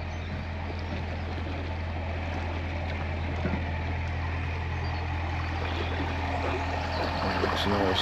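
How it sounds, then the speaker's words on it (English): A canal boat's engine chugs steadily as it passes through a lock on the Tardebigge flight, a constant low throb with faint outdoor ambience and no talk. "here's the boat on its way through"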